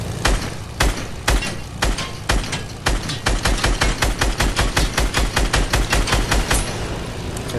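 Gunfire fills a video game as a plane is shot down, with rapid automatic bursts in a fast, driving rhythm. The shots are loud and continuous with no talking over them.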